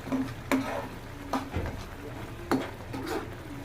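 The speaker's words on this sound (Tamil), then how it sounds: "இப்போ மட்டன் கிரேவியை கொஞ்சம் கிண்டி விட்டுக்கலாம்" A spoon stirs mutton gravy in a pot: metallic clinks and scrapes come every second or so over a soft background sizzle, close up and moderately quiet.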